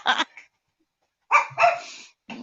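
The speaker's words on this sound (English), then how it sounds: "I don't know why the dogs are barking." Dogs barking at a home, heard as a few short, sharp barks: one burst, a pause of about a second, then two quick barks and another starting at the end.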